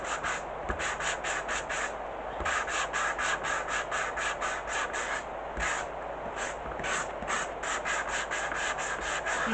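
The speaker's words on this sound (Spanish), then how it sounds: "Voy a desgastar otro poquito más." Sandpaper rubs back and forth over a painted decoupage surface to distress it, producing a rapid run of short rasping strokes, close and fairly quiet, with brief pauses between sets of strokes and no talking.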